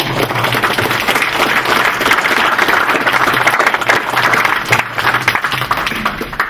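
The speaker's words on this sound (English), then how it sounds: "So by a show of applause, could we all thank the union?" An audience at a school board meeting claps steadily to thank the union, dense close clapping that holds at an even, loud level throughout with a low hum beneath.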